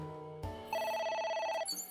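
A phone rings in the Ai: The Somnium Files video game, a steady electronic telephone bell trilling near and clear with a brief change in tone partway through and no talking over it.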